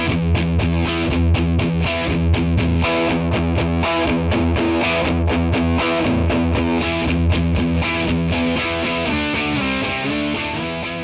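Loud, crunchy distorted electric guitar riffing through a Mesa Boogie Mark V 35 combo tube amp, with rapid chugging chords and sustained notes played continuously without any talking.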